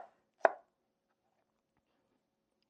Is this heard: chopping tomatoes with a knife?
yes